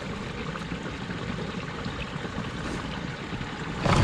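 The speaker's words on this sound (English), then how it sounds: "all the water's flowing in there." Water rushes steadily into a small tunnel-like hole in a ditch near cleared beaver dams, a continuous close flowing wash, growing louder at the end.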